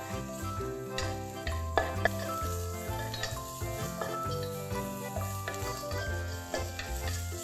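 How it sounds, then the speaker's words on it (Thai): Sliced onion and minced garlic stir-fry in a pan for cheese tteokbokki, a soft sizzle with occasional scrapes of a utensil, mostly buried under loud background music. "หอมใหญ่สไลด์ ผัดให้กระเทียมหอมนะคะ"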